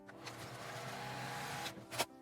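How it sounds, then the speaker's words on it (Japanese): Sewing machine running a line of edge-stitching along the top of a fabric face mask, a steady close mechanical whir with a brief louder burst near the end. "上に端ミシンをかけます。"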